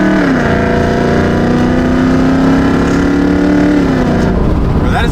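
Corvette C6 Z06 with a Borla exhaust revving hard, a loud droning engine note that climbs, holds steady, then drops off near the end, heard from inside the car.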